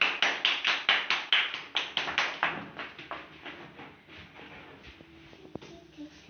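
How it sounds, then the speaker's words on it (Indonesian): Hands clap in a quick, regular rhythm of about a dozen sharp beats at a community gathering, then give way to scattered, softer taps and shuffling that fade toward quiet. "Silakan tepuk tangan untuk Is."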